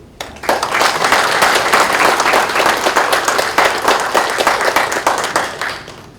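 A studio audience at a televised broadcasting journalists' club debate gives party leader Choo Mi-ae a loud, sustained round of applause that swells quickly and gradually thins toward the end.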